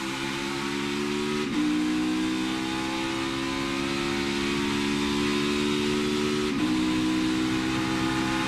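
A NASCAR race car engine at the Drive for the Cure 250 drones loud and steady as the car exits a corner back onto the banking at turn one, with two brief shifts breaking the continuous roar.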